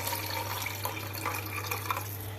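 Measured chicken stock water streams over rice for chicken mandi, a steady close pour with a faint splashing trickle and no talking.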